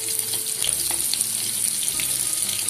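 Onion pieces fry in tempering oil for a stuffed brinjal curry, giving a close, steady sizzle with crackles and light stirring or scraping in the pan, with no talking.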